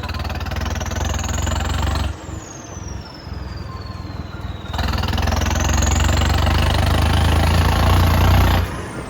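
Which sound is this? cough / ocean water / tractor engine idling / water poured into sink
tractor engine idling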